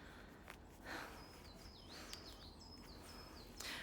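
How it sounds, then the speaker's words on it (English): Small birds singing in an idyllic Alpine hiking spot, a run of quick high chirps and warbling phrases over a quiet outdoor background, with a few soft footsteps or rustles. "you should be able to hear the birds and stuff"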